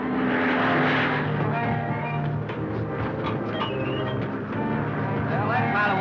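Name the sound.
airplane engine in flight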